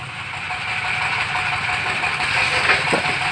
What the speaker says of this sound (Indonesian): Perawatan mesin diesel Mas Rogino dan Mas Agus.